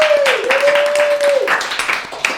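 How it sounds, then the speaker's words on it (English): A comedy roast audience claps and cheers steadily for a couple of seconds, with a sustained whistle or tonal sound riding over the applause. "One more round of applause for Jake."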